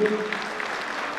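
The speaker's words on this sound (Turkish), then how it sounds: "Hepinizden de bir alkış rica ediyorum." A crowd at a public event applauds, a brief burst of clapping with a voice speaking over it.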